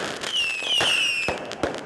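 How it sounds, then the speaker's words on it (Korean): Colorful New Year fireworks burst overhead, a whistling rise followed by several sharp pops and crackles over about two seconds, moderately loud with a steady background hiss. "형형색색의 폭죽이 하늘을 수놓는다."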